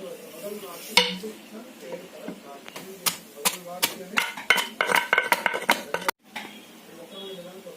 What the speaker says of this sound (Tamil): இப்போ இதையும் இடிக்கணும்.